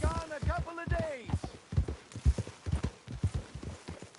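Horse hooves clip-clop in a steady walking rhythm on the way into town in Red Dead Redemption 2, fairly close and moderate, with a voice talking over the start.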